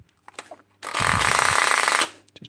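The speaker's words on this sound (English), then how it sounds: "Non-hammer mode, just normal drill mode." A power drill under repair, set to normal drill mode, runs in a single loud, rough burst of just over a second, with light clicks and handling noises before and after.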